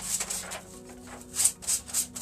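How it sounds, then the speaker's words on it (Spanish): Sandpaper is rubbed gently over a textured decorative angel wing, producing soft rhythmic scratchy strokes close up, with no talking. "voy a tomar mi pieza y con mi lija de manera muy suave voy a empezar"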